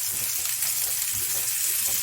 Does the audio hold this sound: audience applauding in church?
no